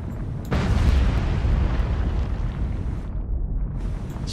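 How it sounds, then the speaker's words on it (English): Secondary explosions in the submarine game Cold Waters: a loud, sustained rumbling boom bursts in after a brief lead-in and roars on without letup, with no talking over it. "Secondary explosions and everything"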